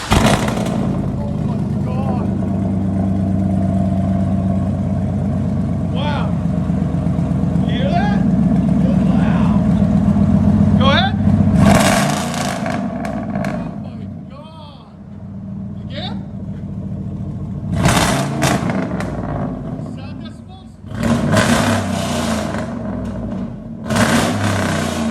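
A 2011 Chevy Silverado 2500HD with a 6.0L V8 and straight-pipe true dual exhaust rumbles loudly at close range, with a steady drone and several sharp revs, while people talk over it.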